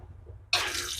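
Water abruptly starts halfway through, a close, steady hissing rush of flowing and dripping water that runs to the end after near silence.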